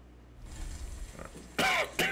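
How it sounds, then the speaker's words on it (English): A dry cough, heard as two harsh close bursts after a low throat sound, loud against a quiet room. "This is dry ass cough that I'm trying to get rid of"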